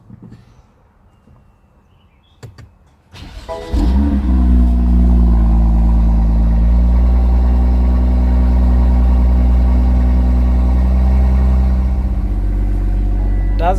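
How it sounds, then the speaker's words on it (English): A crash-damaged 2018 BMW M2 cold-starts in a garage: a few clicks and a brief crank, then the engine catches with a loud flare and settles into a deep, steady, high idle that runs on close by. "let me treat you to a cold start of this baby."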